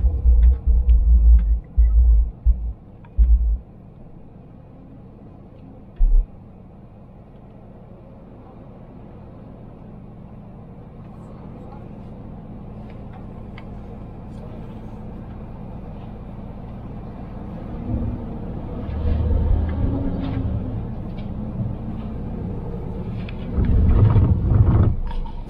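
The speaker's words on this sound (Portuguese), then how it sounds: "fluxo de caminhão tá em contínuo" Trucks in continuous traffic on a highway make a low, steady rumble that builds as heavy vehicles draw nearer and passes in throbbing swells, with a few sharp low thumps early on.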